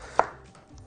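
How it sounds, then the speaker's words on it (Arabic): A single sharp knife chop through tomatoes into cubes on a cutting board, one crisp close thud followed by quiet room tone, with no talk. "عندي طماطم اقطعها عندي مكعبات"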